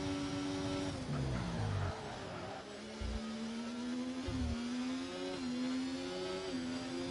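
Haas Formula 1 car in a racing video game during a qualifying fast lap at Baku, Azerbaijan: a thin, whiny high-pitched engine drone that rises and dips through gear changes, steady and fairly close throughout.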